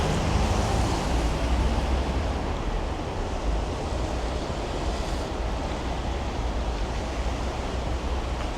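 Steady wind roars and buffets the microphone throughout a winter walk down Bay Street in Toronto, a dense broadband rush that stays loud and constant with no voices.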